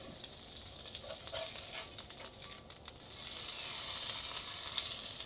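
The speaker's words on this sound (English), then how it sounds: "I'm going to go ahead and give this patty a flip." Turducken burger patty frying in a pan just after being flipped, giving a steady close sizzle with faint clinks near the start. The sizzle swells louder and brighter partway through, and no one speaks.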